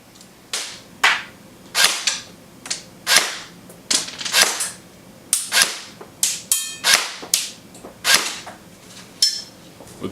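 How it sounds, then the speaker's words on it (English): Cybergun M14 Socom airsoft electric rifle firing .25 gram rounds through a chronograph, a steady series of about twenty sharp, loud single shots spaced roughly half a second apart, close up with no talking. "Now, chronoing the gun with .25 gram rounds."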